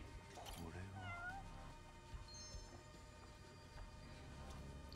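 Cat meowing in the video game Judgment, several short rising meows close by over a steady background of game ambience and music.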